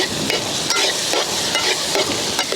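Spiced masala gravy with pepper, turmeric and garam masala being stirred in a pan, a loud close sizzle with a regular rhythm of scraping strokes, about five sweeps in a few seconds, and no talking.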